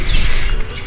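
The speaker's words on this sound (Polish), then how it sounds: "śpiewają ptaki" Birds singing in a Moroccan campsite courtyard planted with palms and orange trees, bright chirps and tweets layered over a busy, fairly loud outdoor background.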